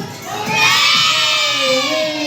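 A crowd of children shouts together on cue as a studio audience at a TV singing show, one loud sustained group cry that swells and holds for about two seconds.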